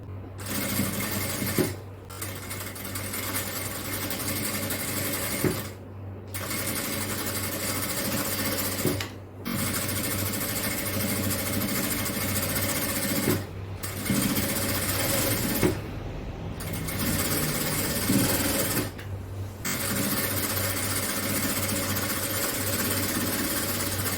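A sewing machine runs a quarter-inch strip stitch on a designer inskirt, a steady loud motor hum in long runs broken by several short pauses as the fabric is repositioned.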